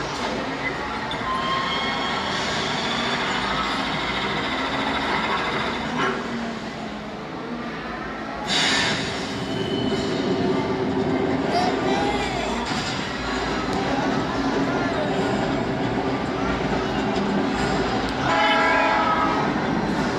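Steady train rumble in a video game with a horn blast around the middle, loud and continuous throughout, with faint talk underneath.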